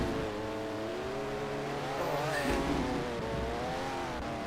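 Race cars in a sim racing league game at Portland, engines revving and shifting with layered whining tones, one car passing close around the middle, a steady continuous roar with no talking.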